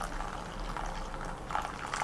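Cha Tra Mue Thai tea being poured, a soft continuous liquid splash and trickle, fairly faint and close, with no talking.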